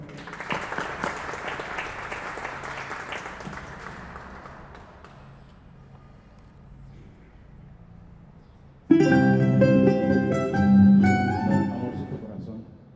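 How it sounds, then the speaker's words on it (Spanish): An audience at a book presentation on the bolero applauds steadily and loudly, and the clapping fades over several seconds. After a short lull, music starts abruptly. "Un gran aplauso, por favor."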